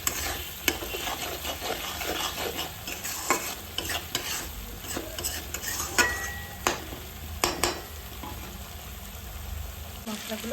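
Spice paste with turmeric being stir-fried in a pan for lau chingri, a low steady sizzle under repeated scraping strokes and sharp spatula clacks against the pan, close and quiet, without speech.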